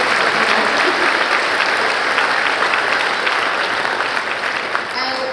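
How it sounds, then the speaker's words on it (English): Audience applause fills a cabaret performance hall, a steady dense wash of clapping held loud from start to finish with no break. "Just quickly give them a clap as well."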